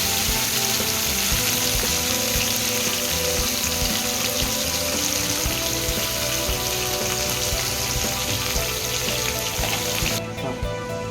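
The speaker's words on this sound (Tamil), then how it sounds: "இப்போ நல்லா இதை வணக்கிவோங்க" Onions sizzle and fry steadily in a hot pan while the base for a Tamil fish curry cooks, a dense, continuous crackle close up and loud throughout, with no voices.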